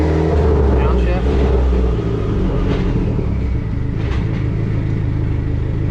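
A red Dodge SRT-4 engine drones loudly and steadily during a transmission test, the low rumble shifting in tone as it downshifts through the gears, close up with no voices.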